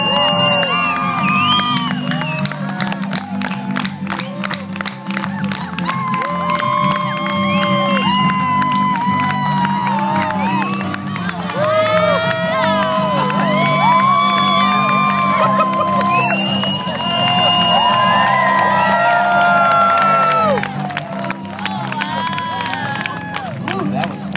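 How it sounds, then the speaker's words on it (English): A luau crowd cheers, whoops and applauds while a performer climbs, loud continuous clapping mixed with shouts and high excited voices, rising in intensity midway and holding steady throughout. "Give him a nice round of applause. Make a lot of noise."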